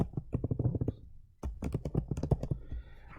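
Graphing calculator keys pressed in quick succession, a run of light plastic clicks, a short pause, then another burst of taps, close and fairly quiet with no talking.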